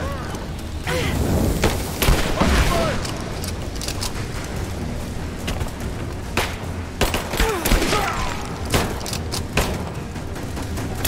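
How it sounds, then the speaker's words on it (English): Booms, thuds and bursts of gunfire erupt in a video game firefight around a grenade blast, loud and repeated over several seconds as a man briefly exclaims. "Throwing a grenade!"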